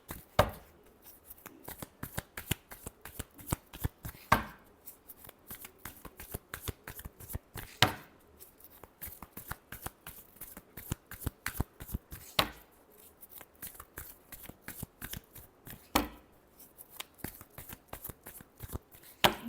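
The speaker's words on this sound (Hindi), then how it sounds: "Last shuffle." Tarot cards being shuffled by hand, a steady run of crisp riffling and flicking clicks with periodic sharper slaps, close and fairly quiet, with no talk.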